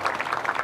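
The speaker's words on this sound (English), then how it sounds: "Let's give them a clap." Mourners at a memorial celebrating a life give a brief round of clapping, a short, dense burst of many hands at moderate volume.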